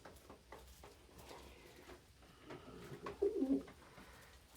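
A pet dove coos softly indoors, with faint scattered sounds at first and then a louder run of rolling coos toward the end.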